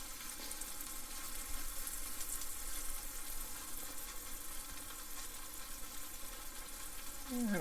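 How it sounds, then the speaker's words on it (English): A fish burger patty fries steadily in a pan, giving a continuous close sizzle throughout with a brief scrape near the end. "form it into a little patty here in the pan"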